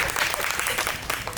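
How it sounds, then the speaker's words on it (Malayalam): A panel talk audience at a Women's Day event breaks into brief, loud, close applause that is dense and continuous throughout. "കയ്യടി"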